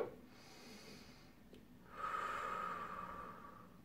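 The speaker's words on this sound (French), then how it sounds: "Bien sûr, on inspire à fond." A slow, deep breath drawn in and held during an upper back stretch, a soft airy inhalation swelling quietly in a calm setting with no speech.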